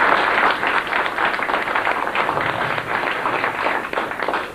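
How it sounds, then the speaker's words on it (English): A lecture audience claps hands in steady, dense applause that fills the room at a strong level for the whole few seconds, with no voices over it. "clap your hands and just say thank you"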